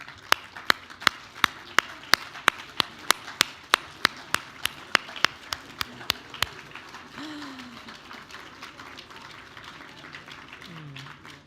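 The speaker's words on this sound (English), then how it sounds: "I ask that you kindly stand so that we can give them a well-deserved another round of applause" Gala dinner audience at the Hotel Pierre clapping: sharp, evenly spaced claps, probably near the microphone, ring out for about six seconds before fading into room murmur and faint voices.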